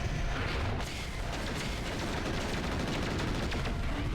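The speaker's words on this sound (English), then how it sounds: "I'm going to be using long-range missiles at this range." Long-range missiles fire in the video game MechWarrior 4 as a dense, loud, rapid volley of whooshing launches and mechanical rattling with no pause, heard without speech.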